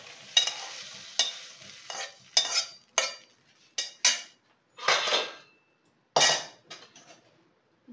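Fried bottle gourd gets stirred into a pot of dal, a series of separate close scraping and clattering strokes with brief wet sizzles between quiet gaps, no voices.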